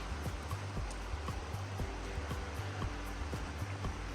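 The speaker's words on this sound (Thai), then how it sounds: "ได้ยินเสียงน้ำไหลกันไหมเอ่ย" A large, cold forest stream flowing steadily, a continuous soft wash of water with faint rhythmic knocks in the background and no voices.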